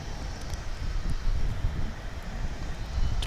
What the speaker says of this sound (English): incoming right now is American Flight 2890 from Colorado Springs